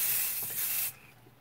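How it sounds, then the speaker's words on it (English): A single short hiss from a Bath and Body Works hair and body shimmer spray lasts under a second and then cuts off sharply, heard close up. "it's kind of like the cheap hairspray that you spray in."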